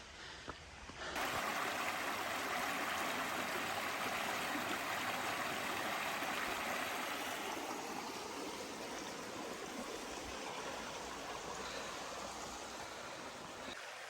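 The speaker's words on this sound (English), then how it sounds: "Big rock cliffs with waterfalls and a little stream running through it." A small stream with waterfalls below big rock cliffs along the Appalachian Trail in Virginia makes a steady, full rushing roar, constant and close, after a brief quieter moment at the start.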